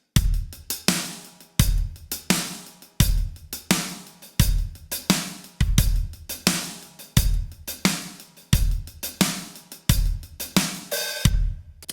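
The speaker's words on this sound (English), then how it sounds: "now you're going to be playing a 2-handed 16th note pattern on the hi-hat" A drum kit plays a money beat with a two-handed sixteenth-note hi-hat pattern, fast dense hi-hat strokes over alternating kick and snare, loud and close in a steady repeating groove with no voice.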